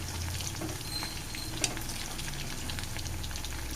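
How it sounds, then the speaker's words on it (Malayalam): Chicken frying in a pan and being turned over gives a steady, close sizzle and crackle throughout, broken by one sharp clink midway. No one speaks. "ഇനി നമുക്കിത് തിരിച്ചും മറിച്ചൊക്കെ ഫ്രൈ ചെയ്തെടുക്കാം"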